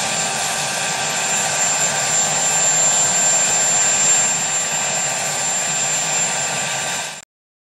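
A helicopter's engine runs close by with a loud, steady turbine whine and broadband roar, holding level for about seven seconds before cutting out suddenly into silence.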